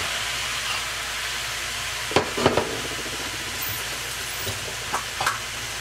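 Drained diced garden tomatoes go into a pan of Spanish rice, giving a steady frying hiss with a few soft clattering stirs and spatters near the middle and end.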